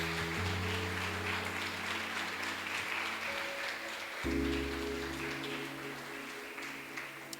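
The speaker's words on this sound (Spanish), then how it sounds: "Le damos un aplauso y una ofrenda de palmas al Dios de Rey." A church congregation at a youth service claps as an offering of applause to God, a dense, steady wash of clapping that fills the space continuously, with sustained musical tones from instruments running underneath.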